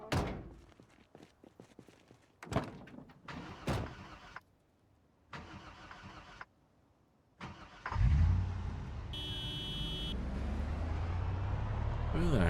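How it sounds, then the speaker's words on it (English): Car engine in a loud shooter game revs up and roars steadily after a few slams and clunks, loud and close, with game effects and brief voices mixed in earlier. "So cars are very loud."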